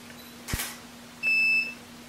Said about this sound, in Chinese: 我们把这个快门调到120分之1或者是160分之1，我们来拍摄一张